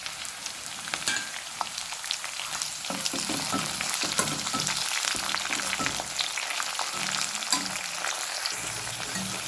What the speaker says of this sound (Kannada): ಕಾಯಿ ಮೆಣಸು, ಕಟ್ ಮಾಡಿ ಇಟ್ಕೊಂಡಂಥ ಈರುಳ್ಳಿಯನ್ನು ಸೇರಿಸ್ಕೊಳ್ತಾ ಇದ್ದೇನೆ.